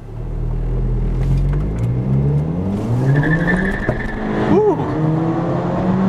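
A 2007 VW Golf GTI Mk5 with roughly 200 horsepower pulls hard in sport mode through a tunnel, its engine note rumbling and rising steadily under a loud, continuous roar, with a brief whoop from an occupant near the end.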